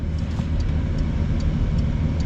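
A Porsche 911 GT3 of the 992 generation driving in sport mode, its engine a loud steady close drone with road noise and faint ticking above it, no one speaking.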